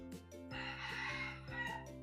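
A rooster crows in a long, loud, harmonic call, preceded by a short cluck, with a steady low hum underneath.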